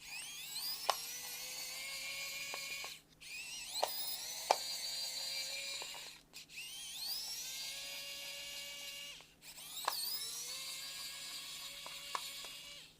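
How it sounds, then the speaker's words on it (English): Small Phillips head screws come out of a HyperX Cloud III Wireless gaming headset ear cup under a high, steady whirring driver, running in bursts of about three seconds separated by brief pauses. "There's going to be some small Phillips head screws that you need to unscrew."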